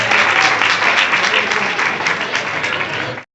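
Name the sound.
applause at a school event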